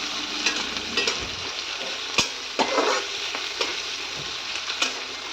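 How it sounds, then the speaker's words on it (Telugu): Onions frying in oil for a jackfruit seed curry, a steady broad sizzle with intermittent scraping stir strokes and light clinks, close and fairly loud with no talking. "బాగా ఎరగాలి ఫ్రెండ్స్ ఉల్లిపాయలు"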